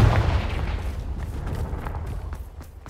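A booming explosion from the Confringo fire spell in the video game Hogwarts Legacy, a heavy low blast at the start that rumbles and decays over a few seconds.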